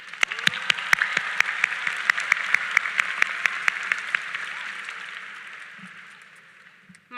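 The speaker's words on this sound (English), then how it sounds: "Can we get a big round of applause for the class of 2025?" A large audience at the Norwalk High School graduation applauds the class of 2025 with dense, sustained clapping and a few sharp claps, gradually fading out near the end.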